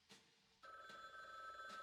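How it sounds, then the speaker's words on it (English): A telephone rings in the Frog Detective 2 video game, a repeating electronic bell tone that starts after a brief quiet burst and sounds steady and fairly faint. "The phone's ringing."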